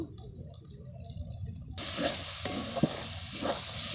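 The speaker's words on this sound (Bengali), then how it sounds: "এবার একটু ভালো করে কষিয়ে নেব" Spice paste with Kashmiri chilli, turmeric and chilli powder is stirred and fried for chicken curry; a quiet scraping stir gives way to a louder, steady sizzle partway through, with no talking.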